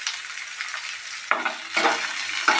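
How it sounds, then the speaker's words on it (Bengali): Chopped onion, cut fairly thick, frying in a pan, with a steady soft sizzle broken by a few louder bursts of stirring and crackle, close by and without any talk. "দিয়ে পেঁয়াজটাকে একটু ফ্রাই হতে টাইম দেবেন।"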